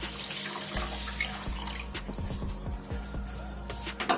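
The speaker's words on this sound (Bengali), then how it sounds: "আর দিয়ে দিচ্ছি জল 1 গামলির মতো।" Water poured into a bowl of sugar, a running trickle and splashing stream close by, with small clinks and knocks of the bowl as it fills.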